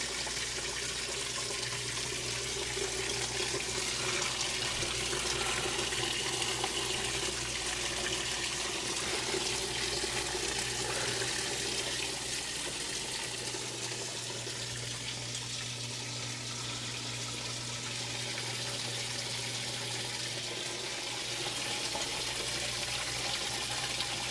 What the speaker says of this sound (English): the water is once again rising, so right on schedule